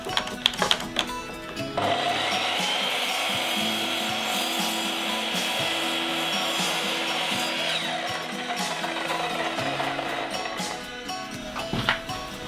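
A table saw cuts reclaimed pine boards to length with a loud, steady whining rip of several seconds, framed by clunks and handling of wood before and after.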